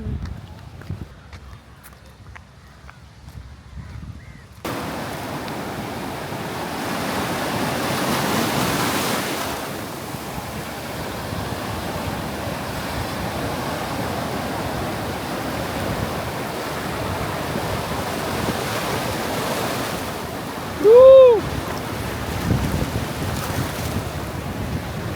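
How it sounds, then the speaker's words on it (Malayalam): Strong wind blows steadily across the seashore, a broad continuous rush with surf beneath it, and a brief louder tonal sound rises near the end. "നല്ല കാറ്റുണ്ടല്ലോ ദീപോ."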